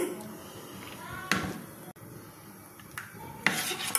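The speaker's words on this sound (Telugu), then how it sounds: "ఇలా పలచగా నీట్గా కలుపుకోవాలి" A thin, sweet dosa batter of wheat flour, sugar and salt is stirred in a metal vessel with a spoon, giving a few sharp clinks and scrapes over quiet room tone.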